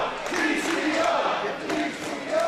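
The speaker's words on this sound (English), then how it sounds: "And listen to the crowd respond" A wrestling crowd at an independent match roars and cheers in a loud, sustained wash of voices that swells and surges, with scattered shouts rising above it.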